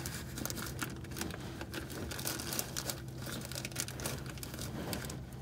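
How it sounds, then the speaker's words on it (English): Ziploc plastic bag lifted during an oil filter change on a 6.7 Cummins diesel, giving a steady close crinkling and rustling of plastic throughout, with a faint low hum underneath and no talking. "We're gonna lift the Ziploc up a little bit."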